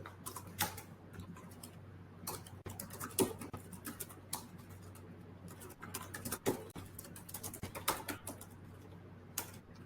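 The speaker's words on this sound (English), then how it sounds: "my typing is actually bad" Keys clatter on a computer keyboard in quick, irregular bursts of soft clicks and taps, close but faint over a low steady hum.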